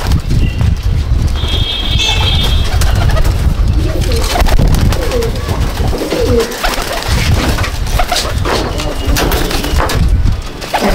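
Katowala pigeons in a loft in Icchapur, North 24 Parganas, cooing softly amid loud, steady background noise and scuffling throughout.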